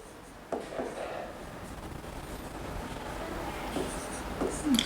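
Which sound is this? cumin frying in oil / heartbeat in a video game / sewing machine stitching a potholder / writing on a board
writing on a board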